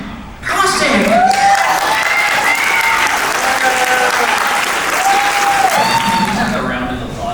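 Loud, sustained applause from a symposium audience welcoming a company CEO to the stage, starting abruptly and holding steady throughout with a few voices and cheers audible within it.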